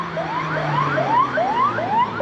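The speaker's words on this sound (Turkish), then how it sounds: "Ambulans mı, polis mi? Ambulansmış." An ambulance siren wails on a road near La Higuera, Bolivia, its rising sweeps repeating steadily at a moderate distance with no talk over it.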